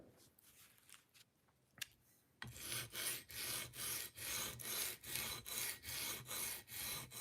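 A knife blade stroked steadily across a diamond sharpening stone in a cold workshop, a dry rhythmic rasp repeating about every half second, close and loud, after a few quieter scrapes and a clack.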